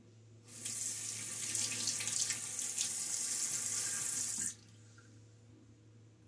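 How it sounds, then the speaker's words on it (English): Water runs steadily from a sink tap for about four seconds as a shaving brush is rinsed under it, a broad hiss that then stops abruptly. "I'm gonna rinse now."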